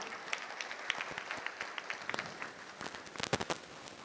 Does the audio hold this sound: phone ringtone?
no